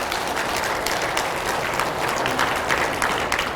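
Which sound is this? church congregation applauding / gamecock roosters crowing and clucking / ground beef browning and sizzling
church congregation applauding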